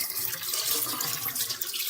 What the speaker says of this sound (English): I'm going to rinse these really well, and then we'll crack some of them open.